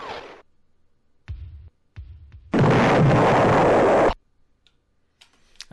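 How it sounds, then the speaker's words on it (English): A grenade explodes in the Amiga public-domain game Alien Fish Finger: a loud, sustained burst of roughly a second and a half, preceded by a few short, sharp pops. "I'm glad that the grenade's explosion sound is super loud."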